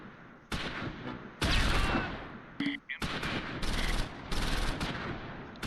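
Gunfire crackles in the Close Combat V wartime strategy game, with bursts of rifle and machine-gun shots arriving in several loud, sustained volleys separated by short gaps.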